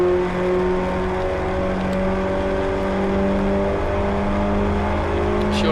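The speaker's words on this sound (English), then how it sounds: "as the cars turn their way through the chicane" Stock hatchback race cars drone through the chicane at Donington Park, a steady layered engine whine with shifting harmonics as several cars hold revs close together, continuous and fairly loud.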